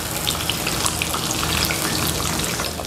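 Tofu for Indonesian stuffed tofu (tahu isi) fries in hot oil, giving a dense, continuous crackling sizzle that stays loud and even throughout, with no voices.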